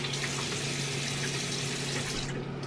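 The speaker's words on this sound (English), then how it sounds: "so I'm washing my hands" Water runs steadily from a tap over hands at a sink, a close, continuous broadband hiss that holds level for the whole stretch and eases slightly near the end.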